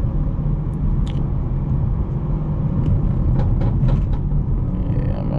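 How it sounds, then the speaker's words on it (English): A tuned BMW 440i engine rumbles loudly in a tunnel, echoing, with a few sharp revving blips as it downshifts, heard from inside with windows up. "Downshifts in the tunnel, even with my windows up,"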